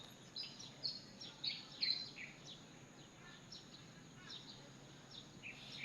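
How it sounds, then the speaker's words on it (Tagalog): Several small birds chirp and tweet in scattered short calls during a quiet outdoor walk, faint and somewhat distant over a soft steady background hush. "Huni lamang ng ibon ang inyong maririnig."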